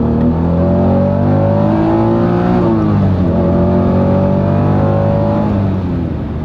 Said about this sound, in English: VTEC cars and the NSX have a great sounding induction noise